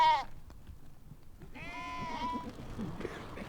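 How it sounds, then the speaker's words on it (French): Sheep and goats bleating while being watered on a rural family farm, two distinct bleats, one short at the start and a longer wavering one midway, over quiet outdoor ambience. "Hossein et son frère Lakhdar abreuvent leurs moutons"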